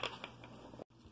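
A quick crunchy bite into tiny homemade miniature food, a close, soft crackling chew lasting under a second before a brief silence.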